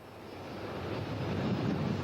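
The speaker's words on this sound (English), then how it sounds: "When the 747-400 left the ground, it was aiming to do what no other commercial jetliner has ever done" A Qantas Boeing 747-400 jetliner with new winglets, its engines giving a steady broadband roar that swells gradually as it leaves the runway, with no voices.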